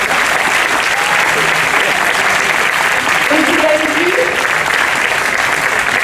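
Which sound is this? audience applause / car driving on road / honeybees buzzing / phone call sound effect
audience applause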